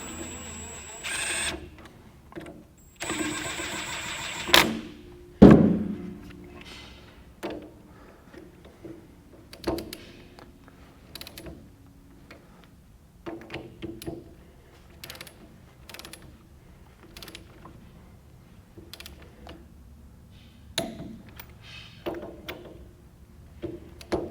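A torque wrench tightens the rear main journal bolts on a Kubota V2203 engine, rebuilt for a Bobcat 773, to 36 foot-pounds: close, sharp ratcheting clicks and metallic taps in irregular bursts, with no talking.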